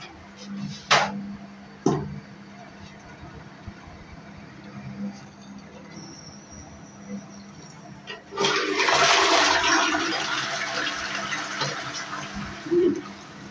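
A toilet cistern fitted with a new siphon flushes in a short burst of rushing water, preceded by a couple of clicks and light handling noises; a person talks briefly at the start.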